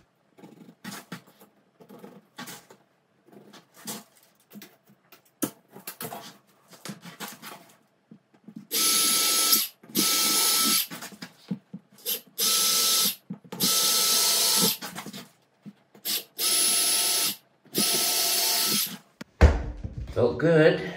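A power drill drives screws down through flooring into the floor joists to stop squeaks, in loud, even bursts of whirring about a second long, repeated roughly ten times with short pauses between, after quieter handling noises.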